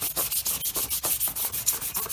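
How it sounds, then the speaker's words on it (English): Sandpaper lightly rubs back and forth over epoxy-coated wood on a lamp base in a steady rhythm of short, scratchy strokes, close and moderately quiet. "I'm going to do a light sanding on it"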